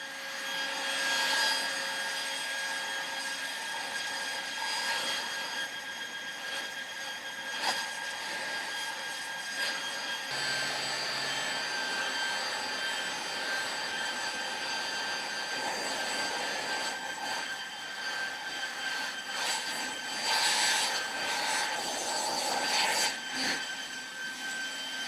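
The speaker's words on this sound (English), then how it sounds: "So you get to see now how well that blower works with wet, damp, heavy leaves." Toro 60V battery leaf blower running continuously on wet, damp, heavy leaves, a steady high whooshing whine with airy rushing noise that shifts slightly in tone partway through, fairly faint overall.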